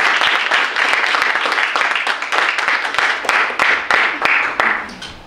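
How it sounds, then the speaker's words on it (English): Audience at an NAACP panel discussion event applauding the panelists, a full, steady round of clapping from a sizeable crowd that tapers off toward the end. "Can we give our panelists a round of applause?"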